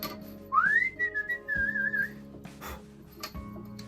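A person whistles a single rising then steady note in a woodworking shop, close and clear, with a few soft knocks and shop noise around it.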